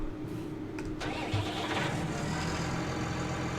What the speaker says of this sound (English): let's get this tractor over here